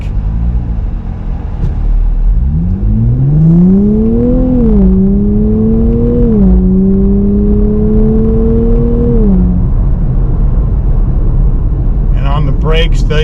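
Engine of a 2024 Nissan Z Nismo on track, rising and settling in pitch as revs climb and ease, with a burbling rear exhaust, loud and close throughout, and a brief clattering burst near the end.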